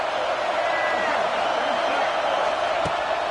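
A football stadium crowd roars steadily behind the defense on a big third down late in the game, a dense continuous wash of cheering with a brief sharp thump near the end.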